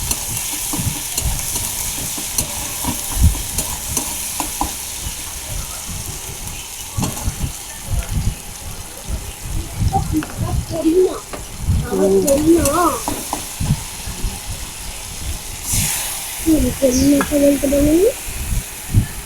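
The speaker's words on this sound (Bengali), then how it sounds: "লঙ্কা গুঁড়ো হলুদ গুঁড়ো নুন সব দিয়ে মশলাটাকে কষাবো" Spice paste of chilli powder, turmeric powder and salt sautéing in a hot pan for fish curry, a steady close sizzle and fry with stirring scrapes and clinks throughout, loud and continuous.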